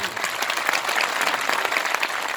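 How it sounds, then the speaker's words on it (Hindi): A crowd at an outdoor political rally in Ghazipur gives a singer a loud welcome, dense rapid clapping from many people that holds steady throughout, with murmured voices mixed faintly underneath. "जोरदार ताली बजा के इनका स्वागत करिए।"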